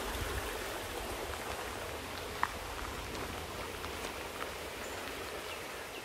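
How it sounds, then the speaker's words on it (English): Runoff from Carter's Run after heavy rain flows in a steady broadband rush of water, fairly faint and constant, with no voices. "This is the runoff from Carter's Run, a famous body of water close by. And you can see it's been raining heavily."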